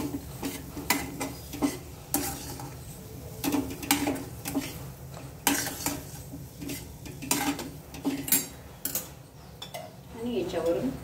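A spoon works through mango sheera with pistachios and almonds in a pan, giving repeated sharp scrapes and clinks against the metal at an uneven rhythm over a soft sizzle, close by, with a little talk.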